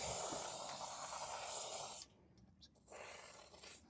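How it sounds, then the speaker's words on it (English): An aerosol spray can hisses steadily while lubricating MG B seat runners, a loud continuous spray for about two seconds, then quieter pauses with short bursts before a second spray resumes. "I think there's as much leaking out the bottom of the can as there is coming out the nozzle on this"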